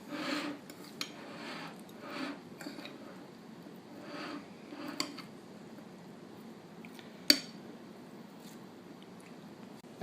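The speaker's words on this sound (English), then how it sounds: "Stir that together well." Parsley being stirred into fresh pico de gallo in a bowl, giving soft, wet squishing and scraping strokes with light utensil clinks and one sharper tap near the end, quiet and steady with no talking.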